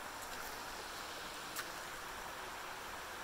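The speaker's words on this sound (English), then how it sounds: "Creek behind us." A creek flows steadily behind a roadside campsite in the Mount Baker Wilderness, giving a constant broadband rushing wash with no pauses and one faint brief tick partway through.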